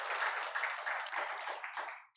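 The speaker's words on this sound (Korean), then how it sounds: "우리 하나님께 영광의 박수 올려드리겠습니다" Congregation clapping during a Sunday church service, a faint, muffled spread of many hands clapping that holds steady and then tapers off toward the end.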